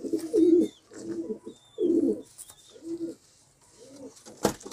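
A male pigeon with a bound tail coos close by in a series of low, throaty, rolling calls, five or so phrases separated by short pauses, ending in a faint rustle.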